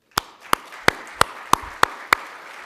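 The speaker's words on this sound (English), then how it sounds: "I think we ought to give you a round of applause" Seven slow, evenly spaced single claps ring out crisply and close at a community media awards ceremony, each one sharp and separate with quiet between them.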